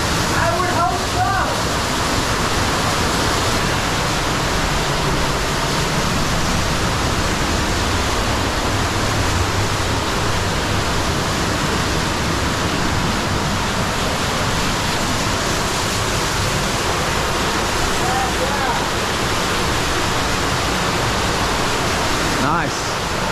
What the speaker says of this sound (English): You want to see a big waterfall?